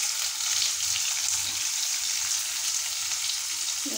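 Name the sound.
onions frying in hot oil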